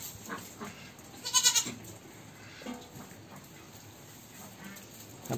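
Goats bleat softly nearby in a quiet pen, with a short cluster of higher cries near the middle and faint shuffling between them.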